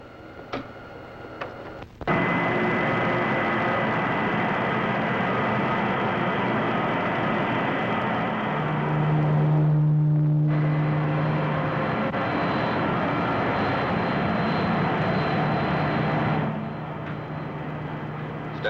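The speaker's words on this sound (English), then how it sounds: "Bringing spaceship CM7 in on tandem pull." Roar of the spaceship CM7 engine coming in to land, a steady loud rumble throughout with a tonal drone rising briefly midway and dropping off near the end; an old science-fiction film sound effect.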